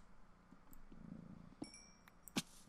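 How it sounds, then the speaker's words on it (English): Pet cat purring faintly at close range, a low steady rumble beneath quiet room noise, with a few small clicks and a brief high chirp near the end. "you may hear a cat in the background."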